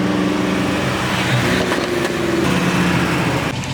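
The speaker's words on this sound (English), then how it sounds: "Your engine, there's a noise coming from it. There's like a rattling sound." A Shelby GT500 engine runs loudly and steadily close by, with a continuous rough, droning rumble and a rattling noise coming from the engine.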